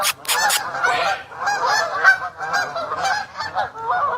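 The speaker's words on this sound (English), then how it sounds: "The geese, they honking and quacking." A flock of geese honks continuously and loudly at close range, overlapping calls forming a dense, raucous chorus with a few sharper honks rising above the rest.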